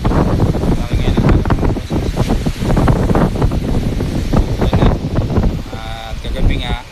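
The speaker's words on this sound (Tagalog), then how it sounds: "At napakalakas ngayon ng hangin" Strong gusty wind buffets the microphone in loud, rumbling bursts, continuous throughout, with a voice faintly underneath.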